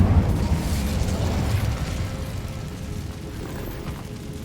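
A fire spell cast in Hogwarts Legacy bursts into a dense, rumbling whoosh of flame that rolls on steadily for several seconds before thinning slightly, close and full-bodied.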